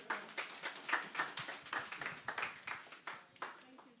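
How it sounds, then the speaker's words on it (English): An audience at a book launch event claps in a quick, uneven stream of handclaps, moderately loud and close, with voices murmuring underneath. "Please, let's give him a round of applause."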